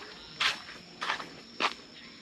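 Three slow, separate footsteps thud on a hollow wooden surface, close by and fairly quiet, with faint background hiss.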